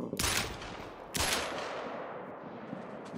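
Rifle shots in the hunting video game Call of the Wild, heard as two loud, sharp reports about a second apart, each trailing off into a long echoing decay.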